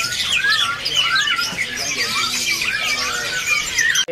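Kacer magpie robins chirping inside a busy bird kiosk, with rapid overlapping whistles, squeaks and rising-falling trills filling the air continuously, close and fairly loud.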